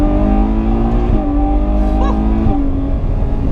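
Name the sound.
Ferrari 812 Superfast V12 engine on track at Fiorano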